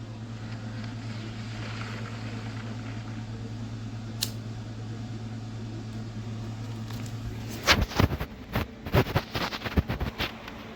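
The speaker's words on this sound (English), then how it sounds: "If you can hear a hum, that's actually my air conditioner in the background." A room air conditioner in November gives a steady low hum for the first several seconds, then a burst of louder handling noises and clatter covers it.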